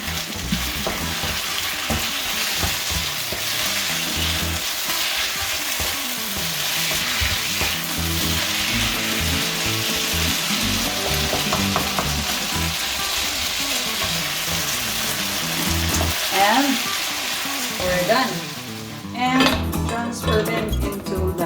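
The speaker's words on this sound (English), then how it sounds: "hot sizzling plate." Beef in black pepper sauce sizzles loudly and continuously on a hot sizzling plate, with scraping and clinking of a utensil against metal throughout.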